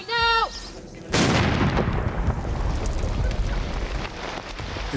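Royal Engineers set off a controlled detonation of a Taliban IED in an old bazaar area in Afghanistan. A sudden loud blast hits about a second in, then a long rumbling roar with falling debris, after a brief shout just before.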